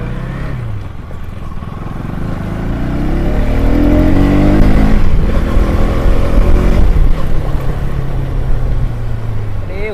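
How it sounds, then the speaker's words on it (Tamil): A motorbike engine revs up and accelerates hard, its pitch climbing and falling through gear changes, loud and close, with a voice briefly heard over it. "ஓ வண்டி பிக்கப் வேற லெவல்"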